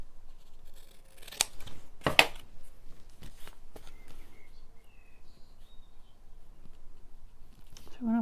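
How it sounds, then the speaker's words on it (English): Scissors snipping through book-page paper up close, a handful of sharp, irregular cuts with quiet rustling between them. "Cut straight, Denise."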